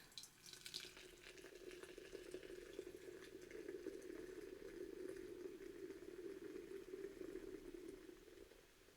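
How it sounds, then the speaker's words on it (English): Grape Bum Energy drink pours in a steady, continuous fizzing splash lasting several seconds, close and even in loudness, with no talking. "So, here's the pour."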